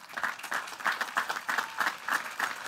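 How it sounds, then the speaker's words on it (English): Graduation ceremony audience at a high school gives a sustained round of applause for parents, steady clapping from a large crowd with rhythmic swells, moderately distant. "giving your parents a round of applause"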